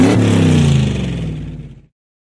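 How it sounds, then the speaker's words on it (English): Toy cars in a Curious George children's video game zoom past with a buzzy, revving motor whir that slowly falls in pitch and fades out over about two seconds. "Jump on the table to avoid toy cars."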